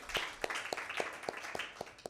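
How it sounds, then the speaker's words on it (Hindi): Applause for a child named Eyan at a children's Father's Day program, heard as sparse, fairly faint individual claps in an irregular rhythm, roughly eight sharp hand claps spread across a couple of seconds. "एयान के लिए ज़ोरदार ताली"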